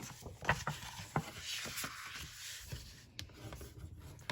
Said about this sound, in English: So on those scored lines, I'm gonna go ahead and fold this.